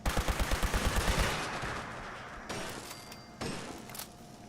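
Rapid automatic gunfire in Fallout 76, a loud burst of about a dozen evenly spaced shots in the first second, followed by a couple of heavier single blasts or clanks.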